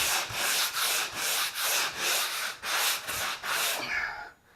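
Dried drywall joint compound being sanded by hand at an angle, a loud rasping rub in steady back-and-forth strokes, about nine passes close up, stopping near the end.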